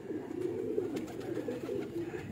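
Pigeons coo close by in a continuous low rolling murmur, several birds overlapping without pause, with no talk over them.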